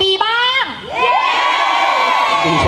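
A crowd of young fans at a Bright and Nest stage event shouts and cheers loudly and close, a sustained high-pitched roar following a brief burst.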